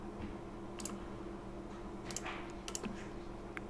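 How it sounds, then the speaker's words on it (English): Mouse clicks and keyboard typing on a computer, scattered sharp clicks in small bursts over a steady low hum, fairly close and quiet with no talking. "And I'm just clicking my way through this."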